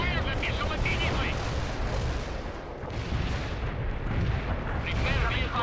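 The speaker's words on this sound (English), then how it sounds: "Barrage hit for full effect." Artillery barrage in the real-time strategy game World in Conflict: dense, continuous rumbling blasts and crackling impacts roll on throughout, loud and close, with game radio voices speaking over the bombardment.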